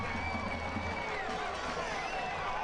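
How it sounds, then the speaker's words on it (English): Stadium crowd at a Richmond Kickers versus New England Revolution II soccer match roars after a goal, a dense sustained cheer holding steady throughout, with an announcer's voice partly over it. "The crowd got started immediately"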